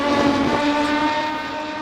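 Race car accelerating out of a right-hand carousel on a circuit during endurance championship qualifying, a steady loud engine drone with a strong harmonic whine holding throughout, without talk.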